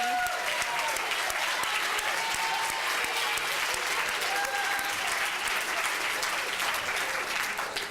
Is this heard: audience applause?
yes